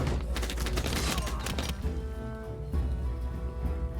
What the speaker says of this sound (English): Archers are going to fire again